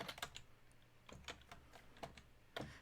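Someone types Python code on a computer keyboard, producing a soft, irregular run of close key clicks with small gaps between the bursts.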